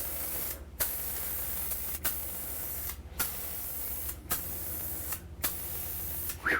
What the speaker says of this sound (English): Whenever you're spraying, you want to go light, okay?